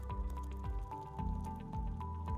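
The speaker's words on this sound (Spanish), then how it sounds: "a tomar el agua caliente y le echamos en el envase." Hot water poured into a container, a close burbling, dripping flow with repeated glugging pulses that shift in pitch as it fills, under a steady background tone.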